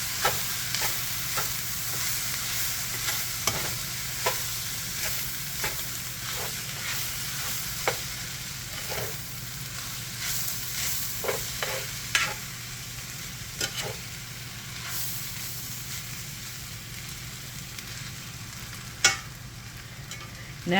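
Pork fried rice with soy sauce sizzles in a hot pan while it is stirred. A constant frying hiss runs throughout, punctuated by intermittent scraping clicks of the utensil against the pan, with no talking.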